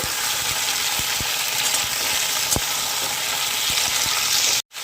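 Spinach fries in a pan without salt, a dense, loud sizzle running throughout, broken by occasional light taps of a stirring utensil against the pan.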